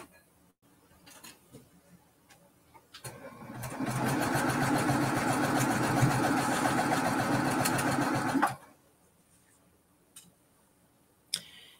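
Sewing machine stitching quilt blocks together runs in a steady rapid mechanical chatter for about five seconds, starting and stopping abruptly between quieter handling clicks.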